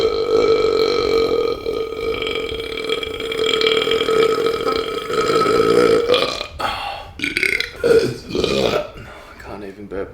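A long, loud, drawn-out burp right after a spicy Indian mukbang meal, rumbling steadily for several seconds up close, then breaking into shorter choppy burps mixed with talking.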